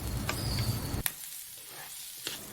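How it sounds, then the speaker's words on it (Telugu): Coriander leaves and spices fry in a pan for a mint rice and potato curry, giving a steady close sizzle broken by a sharp scrape or clatter around the middle and another near the end. "కొత్తిమీర అన్నిటినీ బాగా ఫ్రై చేయాలి."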